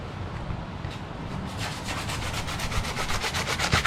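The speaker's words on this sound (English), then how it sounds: "our spindle resurfacing going on in the background." Abrasive sanding on a riding mower spindle during resurfacing, a steady rough rubbing and grinding that builds in intensity and carries on continuously in the background.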